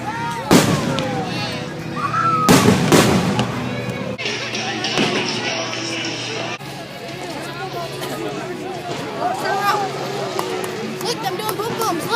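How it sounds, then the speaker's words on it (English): Backyard Fourth of July fireworks in Michigan go off in a few sharp, loud bangs and crackling bursts, followed by steady fizzing and popping, with people chatting and calling out underneath. "then they're going to light the fireworks and it's going to be like 15 seconds"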